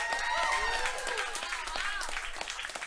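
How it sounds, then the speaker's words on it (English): Crowd applause at a comedy roast for a comedian, steady and fairly close, mixed with whoops and cheering voices that rise and fall over the clapping. "Nice round of applause."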